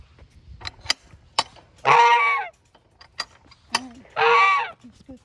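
A goose honks in two loud, harsh bursts, each about half a second long, close by during a night check in a barn. Brief clicks and soft knocks from handling are heard between the calls.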